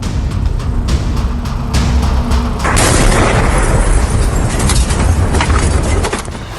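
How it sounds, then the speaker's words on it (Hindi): A heavy boom from bombing in Tehran, near an oil refinery, rolls out as a loud sustained roar and rumble that swells partway through and then tails off. "तेहरान में सबसे बड़ा धमाका, तेल रिफाइनरी धुआं धुआं।"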